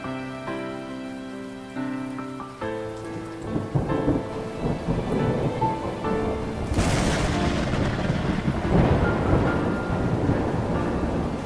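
A thunderstorm builds from quiet to heavy rain pouring on surfaces, with a deep rolling thunder boom midway and a dense, loud downpour continuing to the end.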